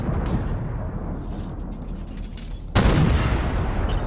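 Heavy artillery fire in the tank combat game Armoured Warfare, a dense continuous roar of booming shots with a louder burst of blasts near the end.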